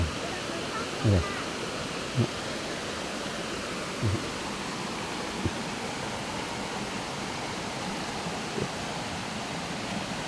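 Steady broadband rush of falling water at Tat Kom waterfall in Kuchinarai, Kalasin, Thailand, constant and enveloping, with a few brief low thumps scattered through it.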